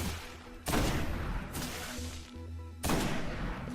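Gunfire in the video game Destiny comes as a few heavy, booming bursts separated by brief pauses, loud and close over a low steady game backdrop.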